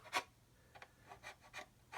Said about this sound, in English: scribe these lines a little touch deeper before I sand